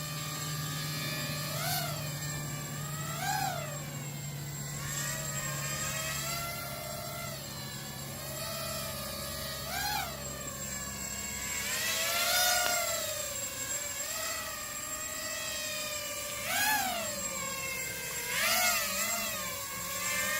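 A radio-controlled model helicopter hovers steadily outdoors at a flying field, its rotor whine holding a continuous pitch that rises and dips in short surges as the throttle shifts, close and fairly loud throughout.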